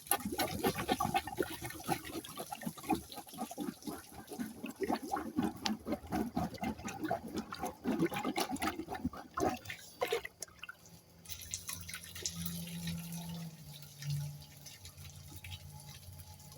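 A plunger pumps water in a clogged toilet, with repeated wet sloshing and gurgling strokes close up, then a rising flush-like rush of water near the end.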